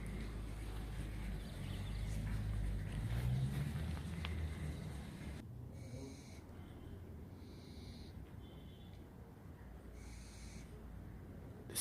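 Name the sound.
little owls calling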